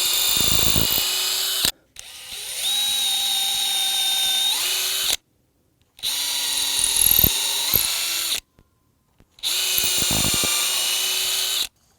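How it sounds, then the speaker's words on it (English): A power drill whines loudly in three long bursts separated by short silences, its bit biting steadily all the way through wood. "and drill all the way through."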